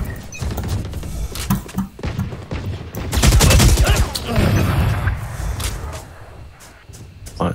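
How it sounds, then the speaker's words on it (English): Rapid bursts of gunfire from the tactical shooter Valorant, including a sniper, crack in quick succession with a heavy sustained volley in the middle, loud and close, fading to scattered shots near the end. "I was shooting at you."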